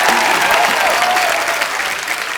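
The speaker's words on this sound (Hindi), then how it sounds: "जोरदार तालियां मेरे लिए।" A studio audience at a comedy show bursts into loud, sustained applause, a dense clatter of clapping hands that stays strong throughout, with a faint tonal sound underneath.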